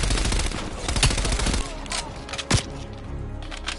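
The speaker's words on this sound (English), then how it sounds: "It's like they're all shooting me" Enemy gunfire in a Call of Duty: Cold War campaign firefight, fast overlapping automatic bursts and sharp single cracks, loud at first and then thinning into scattered shots, with faint voices beneath.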